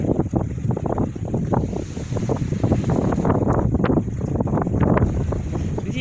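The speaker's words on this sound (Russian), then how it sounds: "Ветер прям сильный с моря, прям сильно меня задувает." Strong cold north wind gusting off a stormy Black Sea along a dirty shoreline, roaring loudly and continuously against the microphone for the whole stretch, with waves faintly beneath.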